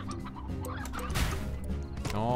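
Chickens and roosters cluck in a Slime Rancher game scene, several birds close together in a busy, continuous burst alongside game sounds.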